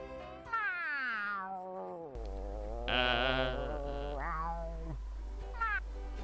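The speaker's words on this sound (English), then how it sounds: "was apparently now meowing in a singing fashion" A cartoonish cat meows in a drawn-out, sing-song way, rising and falling over several calls against a steady low synthetic hum, in the video game SpongeBob SquarePants: Battle for Bikini Bottom.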